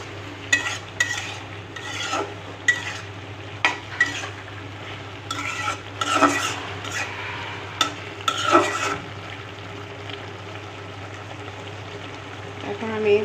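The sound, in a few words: pumpkin with shrimp sautéing in pan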